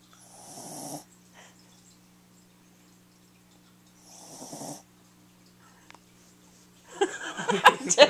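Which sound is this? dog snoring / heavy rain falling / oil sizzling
dog snoring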